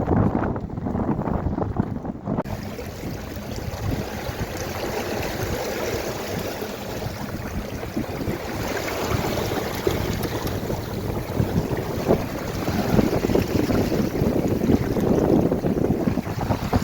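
Steady wind buffets the microphone over continuous splashing water and rising waves against a small boat, loud and unbroken throughout.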